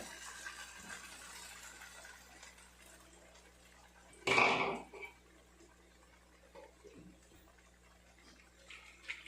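Water is poured into a cooking pot in a brief, loud gushing splash midway, set against a quiet kitchen with faint background noise before and after.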